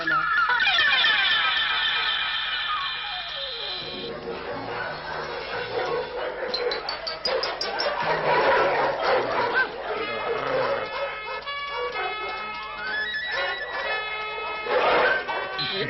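Pack of hunting dogs barking and yapping during a fox hunt in an animated cartoon, mixed with music and other voices, continuous and fairly loud throughout.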